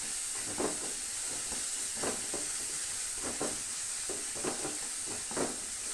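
Puli inji ingredients sautéing in a pan for an Onam sadya, a steady soft hiss with repeated scraping stir strokes roughly every half second, close and moderate, with no talk.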